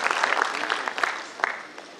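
An audience claps at a literary program, a short burst of scattered, uneven applause that tapers off after a couple of seconds.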